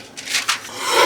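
Paper being cut to trim off an extra piece from a window envelope junk journal page, a few soft close rasping snips building into a steadier scratchy cut, quiet and alone.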